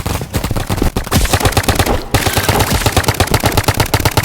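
Rapid, steady automatic fire from a gun in the Roblox game Big Paintball 2, with loud, close, evenly spaced shots that run almost without a break and pause only briefly twice.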